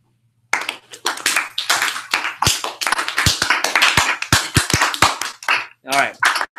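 A few people in a coaching session give a deliberately slow, unsynchronized clap: scattered, uneven handclaps and taps near the microphone, some sharp and isolated, with voices and laughter mixed in among them.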